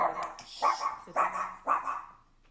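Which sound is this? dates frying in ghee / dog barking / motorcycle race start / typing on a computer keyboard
dog barking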